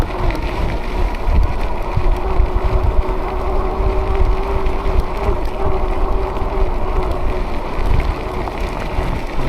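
Motorbike ridden on dirt with a new rear dirt tire, a loud, steady engine drone mixed with rumbling wind and ground noise that holds throughout with no speech.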